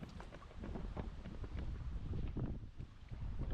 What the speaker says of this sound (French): Avec le vent, ça va pas être évident avec le vent.